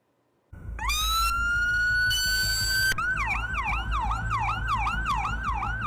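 An ambulance siren blares close by on a Toronto street, with a long rising wail and then a fast repeating yelp, over a rumbling engine.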